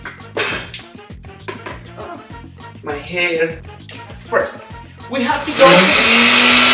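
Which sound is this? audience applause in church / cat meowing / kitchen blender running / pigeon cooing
kitchen blender running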